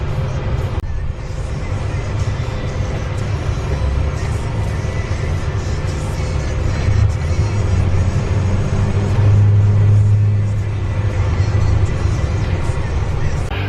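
A SkyLand Ranch shuttle bus climbs a road to the ranch in Sevierville, Tennessee, its engine holding a steady, low rumbling drone from start to finish, with a brief muffled voice in the cabin.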